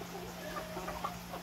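A native chicken clucks softly a few times, close by, over a steady background hum before slaughter.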